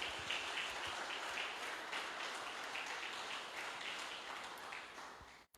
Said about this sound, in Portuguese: Vamos aplaudir Jesus pela vida dela.